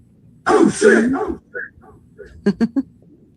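A dog gives a quick run of three short, sharp barks near the end, preceded by a voice speaking briefly.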